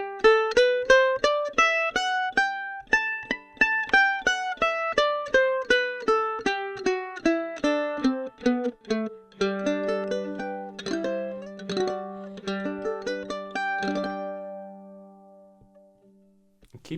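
A mandolin recorded through a microphone pickup straight to the recording with no effects, playing clean plucked notes in a rising and falling run, then strummed chords that ring out and fade at the end.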